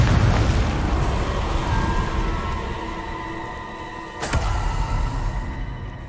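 Confringo fire spells blast repeatedly in Hogwarts Legacy, a dense rumbling roar of explosions that holds steady throughout, with one sharp, loud burst near the end.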